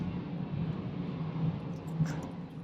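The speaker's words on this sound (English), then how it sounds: "Excuse the plane flying over." A propeller airplane passes overhead outdoors, a steady low engine drone with a broad rumble that swells slightly near the middle and holds throughout, fairly faint and continuous with no talk.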